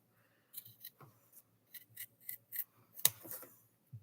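Scissors snip through the fabric of an embroidered zipper pouch, cut at an angle in a quick series of close, crisp cuts with short pauses between them, one sharper snap near the end.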